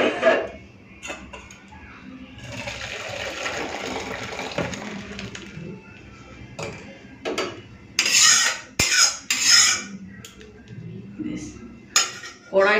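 Cooked masoor dal tipped out of a very heavy iron kadai up close, with metallic clanks and scrapes of the pan, wet sloshing of the thick lentils, and a few sharp knocks near the end.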